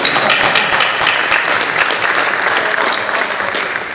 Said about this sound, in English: Big round of applause for Arlen right there, everybody.